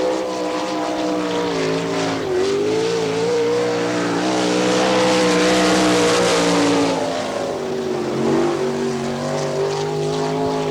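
A sprint race car runs laps on the Wichita speedway at a 1998 NCRA All Stars event, its engine a loud, sustained roar that rises and falls in pitch through the corners, with no talk.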